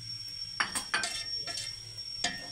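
Macaroni and rice mixture with green onion is stirred in a pan, a utensil scraping and clinking against the metal in a few short, distinct strokes over a quiet sizzle.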